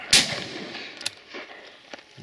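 A single sharp shotgun blast at a pheasant and partridge shoot, loud and close, followed by a fading outdoor echo and a few faint later knocks.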